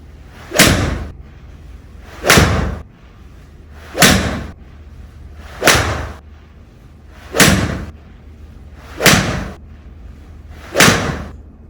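Seven crisp golf strikes from a 7-iron hitting balls, evenly spaced about every 1.7 seconds, each a sharp close click-thwack with a brief swishing tail, no voices between.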